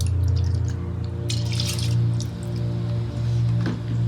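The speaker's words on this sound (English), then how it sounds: "I'm going to also wash the packet because there's a lot of milk that's at the bottom." Water swishes and drips while an emptied coconut milk packet is rinsed out in a kitchen, close up and fairly steady with soft splashing.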